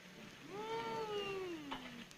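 A single drawn-out cat meow rises and then slowly falls in pitch. It sounds fairly close but quiet, with no voices over it.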